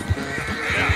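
A horse in the video game Red Dead Redemption 2 gives a short, rough neigh, loud and close, lasting about a second.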